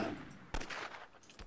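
Cannons firing in a real-time strategy video game battle: a sharp broadband blast near the middle and a second shot near the end, over a dense, noisy bed of combat sound.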